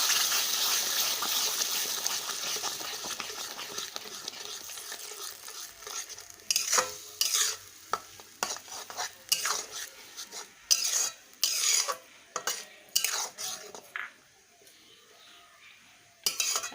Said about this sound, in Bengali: মশলার সাথে পালং শাকের ব্লেন্ডটা মিশিয়ে নেব।